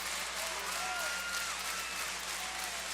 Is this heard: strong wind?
no